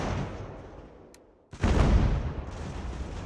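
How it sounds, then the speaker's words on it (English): Cannons fire in the video game Ultimate General: American Revolution, a dull distant boom fading out, then a sudden loud blast with a rumbling, rolling tail. "Our cannons are firing."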